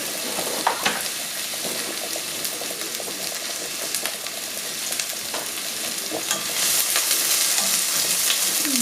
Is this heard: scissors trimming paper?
no